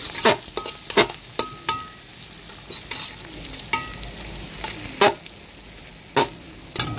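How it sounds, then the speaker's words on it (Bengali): Onion, green chili, cardamom, cinnamon and bay leaf fry in oil and ghee under a steady sizzle, with a spoon stirring and clinking against the pan in repeated strokes. "এবার এগুলোকে আমি ভালো করে ভাজবো।"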